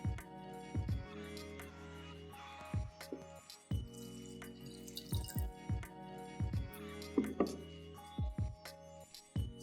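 Water drips and trickles into a saucepan holding juniper berries in a quiet series of splashes and plinks, over a steady low background hum.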